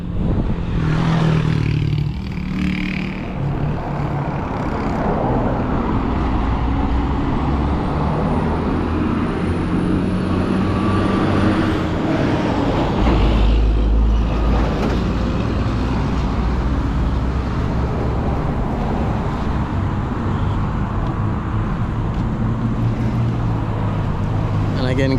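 Busy road traffic at the corner of Lady Musgrave and Trafalgar Road beside a commercial construction site: a continuous loud roar of cars and heavy vehicles with a low rumble surge midway, and a person talking over it throughout.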